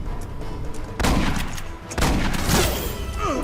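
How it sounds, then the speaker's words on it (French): Smart gun gunfire in the video game Aliens: Colonial Marines, dense bursts of automatic shots in two loud volleys, with a rising electronic whine near the end. "Il tire avec un smart gun"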